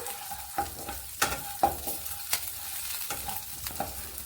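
Chilies, cumin seeds and fennel seeds frying in oil in a pan, stirred with a spoon: a steady close sizzle broken by a handful of sharp scraping clacks of the spoon against the pan.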